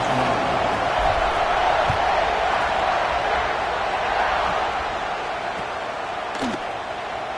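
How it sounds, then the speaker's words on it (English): A college football stadium crowd buzzing before a kickoff late in the final period, a dense continuous roar of distant voices holding steady throughout, with faint thumps and no clear talk on top. "this crowd is buzzing after that last score"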